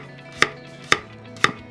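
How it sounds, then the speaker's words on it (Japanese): A knife chops carrots finely on a cutting board, three sharp, evenly spaced strikes about half a second apart, close and clear with no talk. "人参も極力味が出やすいように細かめにカットします。"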